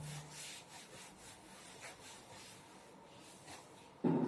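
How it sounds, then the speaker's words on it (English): A hand rubs out a drawn diagram of a seed's structure, giving a faint, steady run of scraping, rubbing strokes followed by a sharper thump at the end. "I will rub this diagram also so you can understand in a better way."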